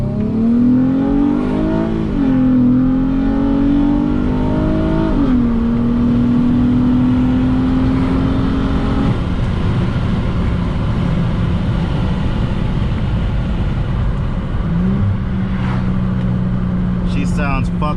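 A 2006 Infiniti G35X engine revs up and down several times, then settles into a loud, steady idle close by, with a brief rev near the end.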